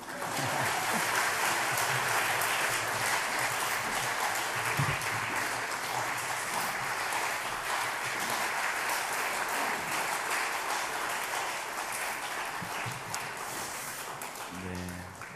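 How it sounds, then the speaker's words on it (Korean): Church congregation applauding during a Sunday worship service, a long, steady wash of many hands clapping that holds at an even level throughout. "다 들어갈 때까지 박수하시죠?"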